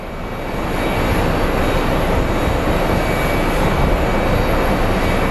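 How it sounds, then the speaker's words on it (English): An Alaska Airlines airliner arriving from Seattle makes a loud, steady broadband roar that swells over the first second and then holds, close and continuous, with no one talking. "we have Alaska Airlines 700 coming in from Seattle"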